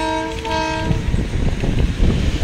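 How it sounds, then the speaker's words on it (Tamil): A loud train horn blares briefly, then gives way to the heavy rumble and rhythmic clatter of a lone locomotive rolling close by on the new Pamban vertical-lift sea bridge during a trial run. "ரயில் என்ஜினை மட்டும் விட்டு சோதனை பண்ண போகிறாங்க. ஸோ சத்தம் கேட்கும்னு நினைக்கிறேன்."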